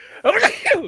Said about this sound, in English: that was a loud sneeze. Nice sneeze.